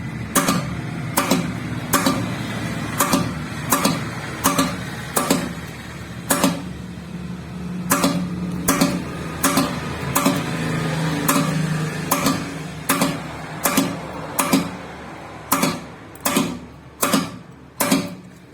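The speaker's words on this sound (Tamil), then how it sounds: "ஓகே, வெல்டிங் வந்து பண்ணியாச்சு." Spot welding on lithium phosphate battery cells for a 48V 30Ah LiFePO4 pack produces sharp, evenly spaced snapping pulses, about one a second, over a steady low hum of the welder.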